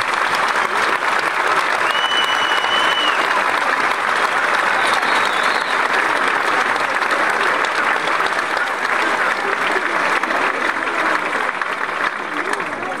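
A crowd claps steadily and loudly throughout at a paloteado dance event in Ribaforada, a dense, continuous wash of applause with no pauses.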